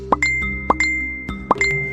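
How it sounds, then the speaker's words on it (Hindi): A phone notification chime goes off repeatedly, four bright plopping ding tones in quick succession, each with a ringing tail, close and clear with no talk. "उसके फोन पर लगातार 4-5 बार नोटिफिकेशन वाली घंटी बजी"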